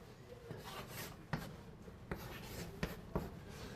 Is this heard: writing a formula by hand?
yes